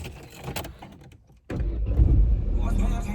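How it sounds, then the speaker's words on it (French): A few faint clicks and rustles lead into a car engine that catches abruptly, then settles into a steady, close, low idle rumble. "Faut peut-être d'abord démarrer la voiture."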